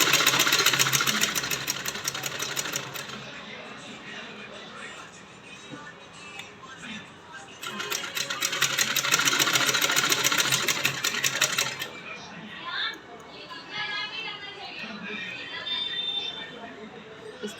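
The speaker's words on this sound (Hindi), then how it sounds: "इस तरह से हमने पूरी सिलाई लगा लेनी है बैक तक।" A sewing machine runs in fast, steady whirring bursts stitching a salwar, with quieter pauses of fabric handling, while someone talks over parts of it.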